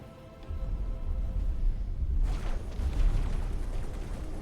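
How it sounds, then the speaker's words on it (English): A deep, rumbling explosion in the space game X4, a low boom swelling up after half a second and rolling on with crackling debris noise, loud and sustained to the end. "Explosion imminent."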